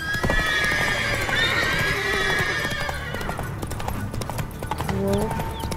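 Wild horses gallop across open ground in The Witcher 3, steady hoofbeats drumming close and loud while whinnies and neighs ring out over them, with no talk.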